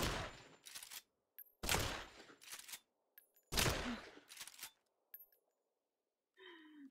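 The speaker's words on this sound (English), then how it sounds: "somebody's taking shots at me" Bursts of gunfire in a bayou shooter video game, several loud rapid volleys with sharp separate shots and brief silences between, ending in a short electronic tone.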